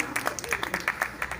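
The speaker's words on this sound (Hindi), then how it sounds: "हाँ तो ताली बजाओ यार, कोई नरेगा मजदूर थोड़ो ताली बजाया करो।" Scattered audience clapping at a Hindi poetry recital, a brief burst of uneven claps with a voice faintly present underneath.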